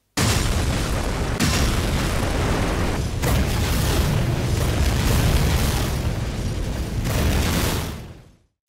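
A bomb detonates in the World War II shooter Medal of Honor: Frontline, a loud sustained blast rumbling and roaring for several seconds before cutting off abruptly.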